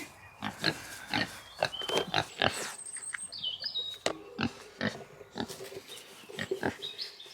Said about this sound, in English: Here they are, the little baby pigs.